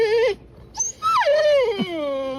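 A dog whimpers with high, wavering whines: a short cry, a brief pause, then a longer rising and falling whine. It sounds fairly close and clear, with no talking.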